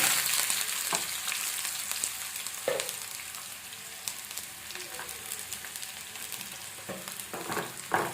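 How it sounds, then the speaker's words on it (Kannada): Chopped onions fry in a pan for aloo matar, a steady close sizzle with occasional stirring scrapes and clinks of the spoon against the pan. "ಈರುಳ್ಳಿ ಹಾಕ್ತಾ ಇದ್ದೀನಿ, ಕಟ್ ಮಾಡಿ ಇಟ್ಕೊಂಡಿರೋದು."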